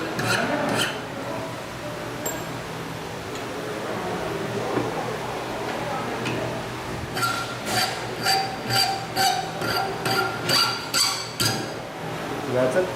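A hand file scrapes the hacksawn edge of blade steel at an angle, repeated rasping strokes growing into a regular rhythm of close, gritty passes with a voice talking over the early part.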